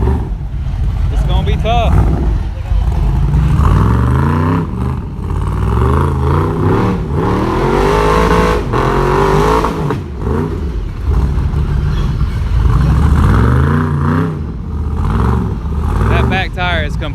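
Off-road racing vehicle on a flat tire climbing a hill at an off-road park, engine revving and rising in pitch repeatedly, loud and close, with people talking and shouting over it.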